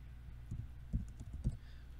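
Someone types a few keystrokes on a computer keyboard while entering an AutoCAD macro, soft muffled taps in a short uneven burst, faint and near, with no voices.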